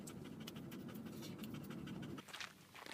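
A dog pants steadily through rhythmic breaths on a hot day indoors, close and fairly quiet, with a short scuffle near the end.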